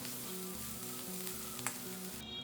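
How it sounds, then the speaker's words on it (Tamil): Asafoetida powder sautéing in hot oil for banana stem curd pachadi, a faint steady sizzle under a low hum, with one brief spoon tap near the end. "கடைசியாக பெருங்காயத்தூள் சேர்த்து எண்ணெயிலே வதக்கி விட்டுருங்க."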